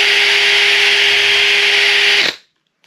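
A power drill bit bores through foam to cut a cylinder, giving a loud, steady whirring hum with a rubbing hiss that stops abruptly near the end, followed by silence and no speech.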